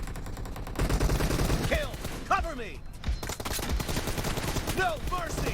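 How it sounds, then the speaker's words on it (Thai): Sniper rifle gunfire in PUBG Mobile: sharp shots crack out at intervals amid dense in-game action and impacts, loud and close, with a couple of quick follow-up shots. "จะเห็นได้ว่าพี่ยิงตัวแรกเสร็จ แล้วพี่หันสโคปไปยิงตัวที่สองทันทีเลยนะครับ"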